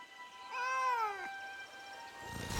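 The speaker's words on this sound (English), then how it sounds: "Kitty." A cat gives one clear, fairly close meow that rises and falls, followed by a brief quiet and a soft rustle at the end.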